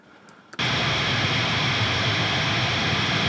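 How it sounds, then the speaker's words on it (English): Pink noise played through a guitar cabinet and picked up by an SM57 microphone: a loud, steady broadband hiss switches on abruptly and holds constant, like static roaring from a speaker. "that's the sound of the SM57 in front of the cab, just picking up the pink noise"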